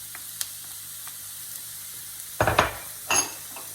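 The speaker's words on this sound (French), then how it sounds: "on va faire revenir les oignons qu'on a ciselés finement" Finely chopped onions hit hot oil for a spaghetti bolognese, bursting into two loud, close sizzles after a quiet start, with faint kitchen clinks before.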